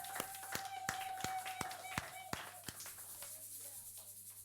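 Church congregation clapping sharply and unevenly, a dozen or so distinct claps spread over a few seconds against a steady low hum, thinning out toward the end.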